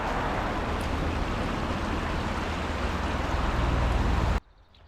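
A small waterfall on a stream in the Vosges pours steadily, a dense broadband rush of water close by that holds constant, then cuts off abruptly near the end.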